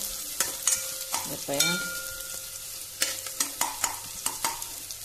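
Onions for an okra curry fry in a pan, a soft sizzle under repeated sharp scrapes and knocks of a spoon stirring against the pan, close and quiet, with a brief word spoken.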